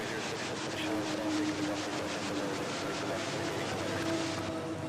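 A Cebu Pacific airliner arriving at Manila Airport, heard as a distant steady jet roar with a faint rising whine, continuous throughout over open outdoor ambience.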